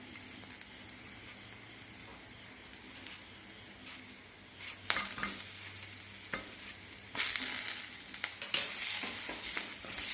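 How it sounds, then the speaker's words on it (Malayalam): Tomatoes sautéing in a hot pan with turmeric and spices for a hotel-style kadala (chickpea) curry, a steady close sizzle with stirring scrapes that grows louder and more crackly toward the end. "ഇതും കൂടി ഒന്നിട്ടിട്ട് വഴറ്റിയെടുക്കട്ടെ."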